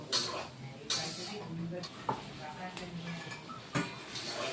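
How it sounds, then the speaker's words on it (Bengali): Potato, pointed gourd and soybean curry is sautéed in a pan, heard quietly as a soft sizzle broken by a few sharp spoon knocks against the pan. "অল্প জল দিয়ে দিচ্ছি এবার বন্ধুরা কষিয়ে নিব"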